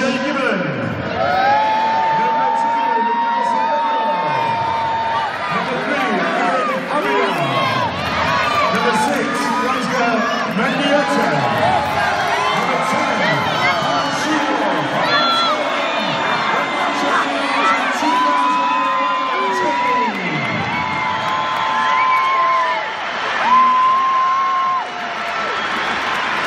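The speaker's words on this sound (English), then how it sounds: "let's give them a nice big cheer" A large stadium crowd at Old Trafford cheers and shouts during a testimonial football match, a sustained roaring wash of voices with an announcer's amplified voice echoing over it.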